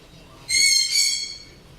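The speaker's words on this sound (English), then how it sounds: "Hear the birds in the background, Coen." A bird gives a single bright, warbling call lasting about a second, fairly close and clear over a quiet outdoor background, with no talking during the call.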